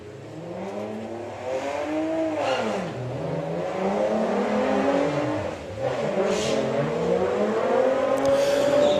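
Volkswagen drag race cars launch hard off the start line at the Santa Pod VWDRC Summer Nationals, engines revving loud and sweeping up through the gears as they accelerate away, one car bogging at the launch.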